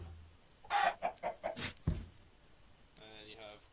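Minecraft chickens in the FTB Unleashed modpack give a quick run of soft clucks, several short bursts close together, followed by a brief fainter squawk.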